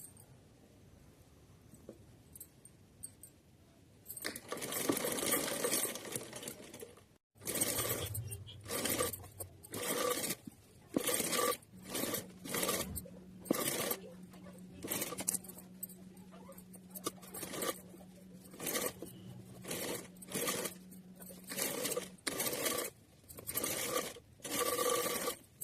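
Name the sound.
sewing machine stitching fabric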